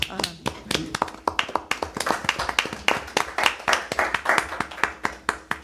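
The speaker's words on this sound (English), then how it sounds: "That's a golf clap." Sparse, polite golf clap at a Cave Creek town council meeting: a few people tapping hands in a loose, uneven rhythm of distinct light claps, fairly close, with faint murmuring behind.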